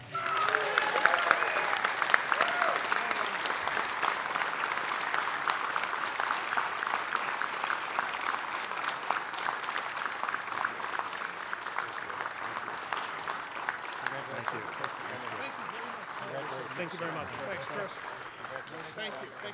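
Audience applause for the first-place team, Sussex County, at the 2023 JEMS Games EMS competition: a dense, steady wash of many hands clapping that holds for the whole stretch, with a voice briefly audible early on.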